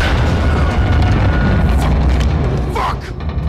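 In the Modern Warfare 2 campaign, an RPG rocket explodes in a loud, close boom that rolls on amid gunfire, with soldiers shouting over the blast.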